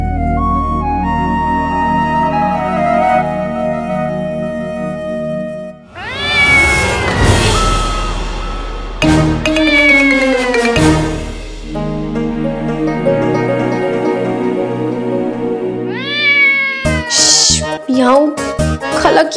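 A cat meowing repeatedly with drawn-out, rising and falling cries, loud and close, interleaved with a person talking and some background music.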